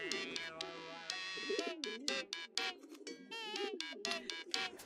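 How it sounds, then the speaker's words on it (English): Carrier pigeons coo repeatedly in the Hiveswap video game, with soft low burbling calls under a steady game music bed of bright plucked tones. "you entrust it to one of your trained carrier pigeons"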